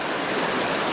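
Fast-flowing small salmon river rushing hard, a dense, steady roar of water close by with no voices.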